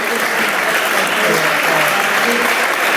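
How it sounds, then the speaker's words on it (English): Loud, steady applause from attendees at a community forum on environment, streets and trees, an unbroken wash of clapping close and full throughout, with some voices mixed in. "Give yourselves a big clap."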